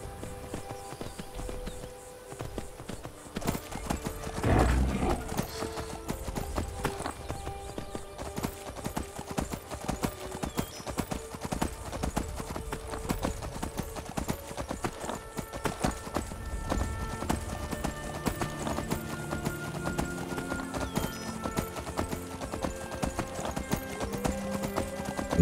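Horse hooves clip-clop steadily while riding across mountain terrain in Skyrim, a continuous rapid rhythmic patter with game ambience and faint talk underneath.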